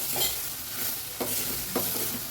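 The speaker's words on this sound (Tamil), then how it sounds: "ஒரு 2 பெரிய தக்காளியை நான் கட் பண்ணி எடுத்துருக்கேன். அதையும் போட்டு இதிலே வதக்கலாம்" Two large chopped tomatoes stirred and sautéed in hot oil for radish sambar, with a steady sizzle and a few distinct scraping stirs of a spoon in the pan, close and clear with no talking.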